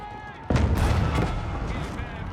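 Cannon fire in the Age of Empires video game, one sharp blast that booms out and rolls into a noisy battle din, with a commentator talking over it.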